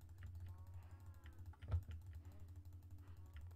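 Rapid mouse clicking while playing Minecraft, a faint, quick run of light ticks over a low steady hum, with one sharper click standing out midway; no speech.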